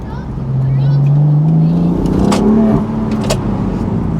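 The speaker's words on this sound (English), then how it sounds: "you can hear the exhaust crackling and stuff and making these growls at you" A BMW M4 convertible (F83) engine growls loudly as it revs and accelerates, with a rising tone and a few exhaust crackles, heard from close by with the top down.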